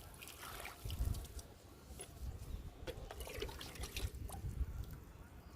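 Liquid fertilizer poured onto potted plants outdoors in hot sun, a soft steady trickle and splash of liquid running for several seconds with low rumbling background noise.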